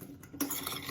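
A utensil scrapes and stirs through potatoes in a pan during Niçoise salad prep, a brief close scraping rub that grows louder partway through.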